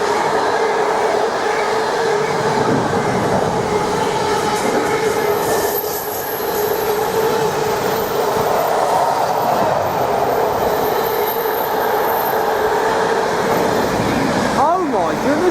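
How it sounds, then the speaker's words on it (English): A Freightliner Class 66 diesel freight train passing through Needham Market station, with a loud, steady rumble of wagons and engine close by, wheel squeal and a brief horn-like tone near the end, and a voice talking over it. "Here it comes. Now it's a Freightliner Class 66 by the way."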